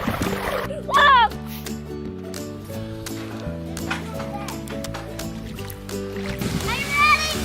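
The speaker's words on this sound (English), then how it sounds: "I'm flooding it with these sprinkler pipes." Water from sprinkler pipes floods a lawn of dead grass in a steady, forceful splashing rush that runs throughout, with a voice and other talk heard over it.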